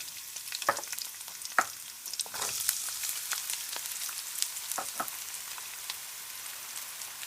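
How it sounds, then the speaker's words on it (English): Garlic and onions sautéing in preheated coconut oil for cauliflower curry fried rice, a soft steady sizzle broken by occasional sharper crackles and stirring clicks, close and fairly quiet. "preheat the coconut oil and you are going to saute the garlic and onions"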